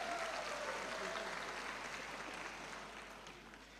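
Audience applause at a university ceremony at UIN Sunan Kalijaga as officials stand, a steady dense clapping that stays fairly loud and slowly tapers off toward the end.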